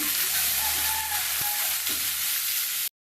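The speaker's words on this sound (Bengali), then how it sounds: "মশলাকে একটু ভালো করে কষিয়ে নেব" Meat and spices sizzling and frying in a pan, a steady close hiss with a couple of soft stirring knocks, then the sound cuts off abruptly.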